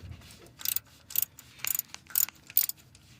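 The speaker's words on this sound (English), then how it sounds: "Now I can put in the 10mm socket, and now we're gonna remove that bolt." A ratchet with a 10mm socket works a thermostat housing bolt loose on a 2005 Honda Civic DX, giving five short, close bursts of clicking separated by brief pauses.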